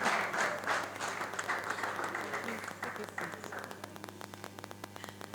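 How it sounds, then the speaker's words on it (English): Audience at a World Juice Day panel event applauds, a steady wash of clapping that thins out into scattered individual claps toward the end, with a low hum underneath. "please, can we give him a round of applause?"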